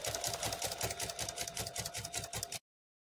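A sewing machine stitches rows of a window quilt, its rapid, steady mechanical chatter running continuously and close up before stopping abruptly.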